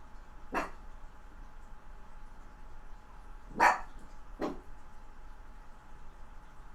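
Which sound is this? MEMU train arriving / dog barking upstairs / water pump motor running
dog barking upstairs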